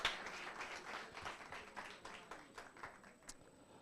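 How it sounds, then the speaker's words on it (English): Audience applause for a speaker at a business strategy workshop in Bochabelo, Free State, a moderate wash of clapping that fades gradually over a few seconds, heard a little distant in a room. "Let's give him a round of applause."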